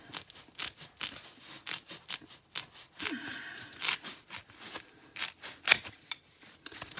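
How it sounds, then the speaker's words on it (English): Repeated crisp snips and crinkly rustles, close by and irregular, as scissors cut through a thin plastic sheet. "you're going to take your scissors that you got, and you're going to cut the other half"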